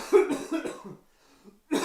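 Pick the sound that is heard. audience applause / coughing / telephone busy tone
coughing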